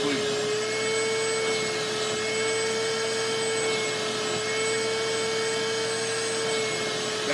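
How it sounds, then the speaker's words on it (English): A Shop Vac wet vacuum runs steadily while cleaning carpet, a constant loud whine with a strong tonal hum that holds unbroken from start to finish. "Now the Shop Vac."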